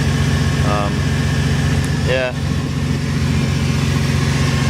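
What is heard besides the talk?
old Ford engine idling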